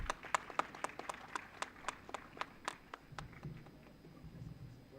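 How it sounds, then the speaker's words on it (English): Audience applause at a food processing startup event, SUFALAM 2025 at NIFTEM-K, for guests being felicitated on stage: a run of sharp, fairly faint claps in an irregular rhythm that thin out toward the end over a low room murmur. "A big round of applause, everyone."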